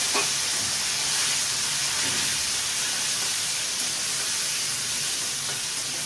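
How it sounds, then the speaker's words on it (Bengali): Grated garlic, ginger and tomato sizzle steadily in a hot pan, a loud, continuous close-up hiss of frying that holds evenly throughout with no talking. "দিয়ে দিয়েছি গ্রেট করা রসুন, আদা, টমেটো"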